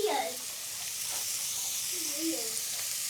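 Garlic cloves sizzle and hiss in a hot pan for a homemade curry, a steady close frying crackle under brief background voices.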